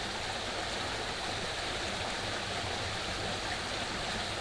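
A forest stream in Garvagh Forest runs steadily, a continuous broadband rush without pauses, fairly even in level.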